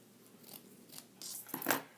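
Scissors snip drywall tape in a few quick, crisp cuts, close and fairly quiet, with a brief papery rustle at the end and no talking.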